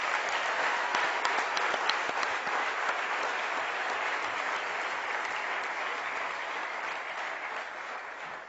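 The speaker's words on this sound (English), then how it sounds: "I would request you all to give a huge round of applause to them." A school graduation audience gives teachers a sustained round of applause, dense and steady clapping from many people that holds at full volume and tapers slightly toward the end.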